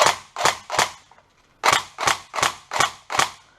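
A GSG G14 electric blowback airsoft AEG fires on semi-auto: three sharp shots, a short pause, then six more in a quick, even rhythm. Each report is loud and close with a snappy mechanical clack, and no one talks.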